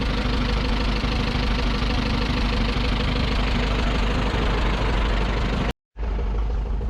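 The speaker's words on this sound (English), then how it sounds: "Old case tractor there sitting running." An old Case tractor engine idles loudly and steadily at the Glamis Transport Extravaganza in Scotland, a dense continuous rumble close by that cuts out briefly before resuming.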